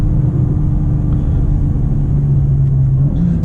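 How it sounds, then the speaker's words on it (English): A 2025 BMW M2's engine pulls hard from inside the car, a dense, constant low rumble and drone held at a steady loudness throughout, with no one speaking. "This engine just rockets you out of turns"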